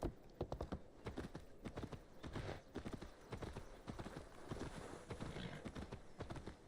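A horse's hooves clip-clop in a quick, steady rhythm in an Assassin's Creed game, close and clear, with a brief whinny and faint game ambience behind.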